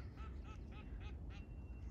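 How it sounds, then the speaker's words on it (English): Ducks quack in a rapid run of calls on a pond or reservoir outdoors, fairly close and clear over a steady low rumble of wind or background noise. "You can hear ducks calling."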